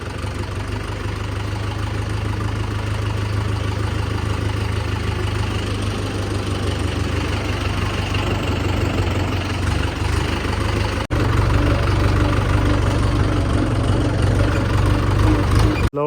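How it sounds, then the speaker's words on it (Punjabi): A Mahindra 575 tractor engine idles steadily nearby, a loud, continuous low rumble with a slight rise in level toward the end. "ਬਾਈ ਜੱਗੇ ਦੇ ਘਰ ਟਰੈਕਟਰ ਖੜਾ ਕੇ ਦੁਆਰਾ ਤੇ ਘਰ ਨੂੰ ਆਏ"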